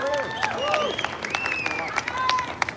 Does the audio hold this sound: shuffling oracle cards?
no